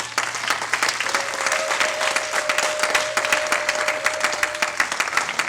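A church congregation at a French-language prophetic revival service breaks into steady, sustained applause, dense clapping filling the room with scattered voices mixed in.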